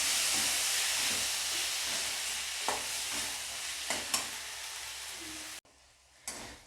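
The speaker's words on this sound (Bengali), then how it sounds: "তারপরে ওই টমেটোটা এর মধ্যে আমি মিশিয়ে এটাকে ভালো করে কষিয়ে নেব" Tomato and spices sauté in a pan for a mutton and kabuli chickpea dish, with a loud continuous sizzle and occasional spoon scrapes, then a sudden drop to a quieter hiss near the end.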